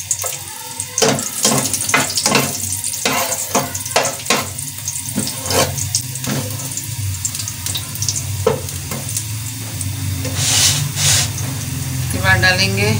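Garlic sizzles in hot oil in a pan with cumin and bay leaf, a steady crackling fry with scattered spoon clinks and stirring, heard under a voice talking throughout.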